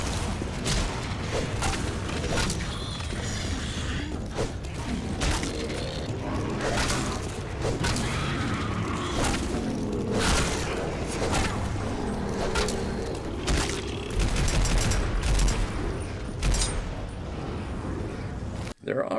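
Gunfire in the video game Left 4 Dead 2, with repeated sharp shots and booming blasts scattered through dense game noise while a voice talks over them.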